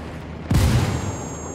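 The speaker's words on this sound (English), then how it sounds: "That Apache's gonna cut loose." A single heavy boom sounds from Apache helicopter gunfire in the video game Ghost Recon Wildlands, a sudden loud blast with a rumbling decay and no talk.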